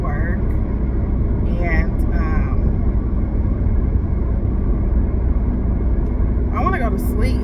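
Car driving along a road, a continuous low engine and road rumble throughout, with people talking briefly over it near the start and again at the end.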